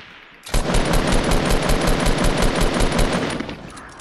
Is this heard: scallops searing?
no